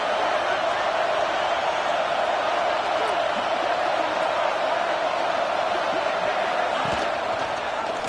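A big stadium crowd roars in the College Football 25 video game as the defense holds near the goal line. A steady, dense wall of cheering continues unbroken, with scattered thumps beneath it.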